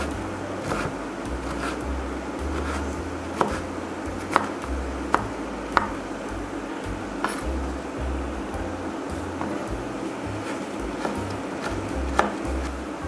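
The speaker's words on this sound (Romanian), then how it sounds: "le tăiem în baghete și invers" Knife chopping celery root into sticks on a cutting board while preparing Hungarian goulash soup, a steady run of soft, quick cuts with a few sharper knocks of the blade.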